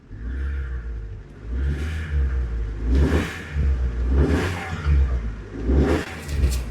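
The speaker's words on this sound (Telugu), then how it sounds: "రేస్ చేస్తున్నాను చూడండి ఒకసారి." A Honda City car engine revs repeatedly, rising and falling in four or five swells over a steady idle rumble, loud and close, with no talking.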